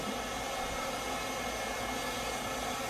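A DUZ dryer blows steadily close up while drying a dog's ear, a constant broadband airy roar with no breaks and no voices over it.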